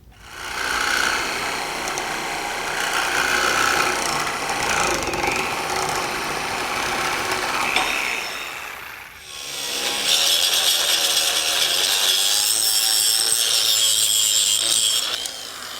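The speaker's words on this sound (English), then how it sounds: "Once you're done with your grinding," Power grinder working steel spindles from a 1967 Chevy C10 suspension, a loud continuous abrasive whine and rasp that runs steadily, drops briefly, then resumes at full strength.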